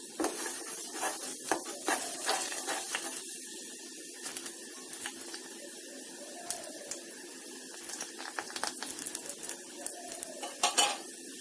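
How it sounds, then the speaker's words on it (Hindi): Hibiscus flowers fry in oil in a pan until black, sizzling steadily while a utensil stirs and clinks against the metal now and then. "ये देखिए जवा कुसुम फ्राई हो रहा है।"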